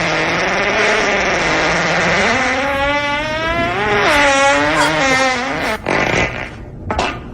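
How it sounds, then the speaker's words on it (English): A cartoonish fart sound effect from the comedy film Step Brothers, loud and close, with a long, wavering buzzy blast that rises and bends in pitch before breaking into a few short sputters at the end. "Was that a fart?"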